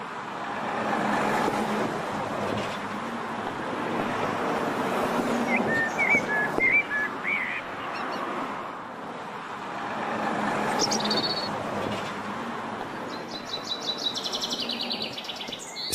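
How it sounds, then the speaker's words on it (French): A few brief bird chirps and whistles rise over a steady wash of road traffic, faint and intermittent against the engine noise. "les oiseaux qui communiquent en chantant"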